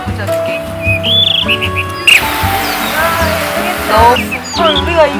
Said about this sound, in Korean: 새소리도 나